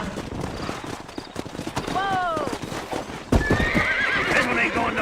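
Hooves clip-clop and a horse whinnies in a cowboy video game, with a sharper burst of game sound partway through, all under steady talk and background game audio.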